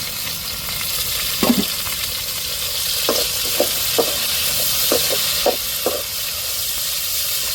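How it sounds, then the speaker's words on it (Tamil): Onion, tomato, chili and okra sautéing in a pan, a steady broad hiss of frying with a handful of short spatula scrapes and clinks spaced through it, close and moderately loud. "வெங்காயம் தக்காளி மிளகா மூணையும் நல்லா போட்டு விதக்கி வச்சுருவோம் வெண்டைக்காயோடு சேர்த்து நல்லா வதக்கிக்கிடுவோம்"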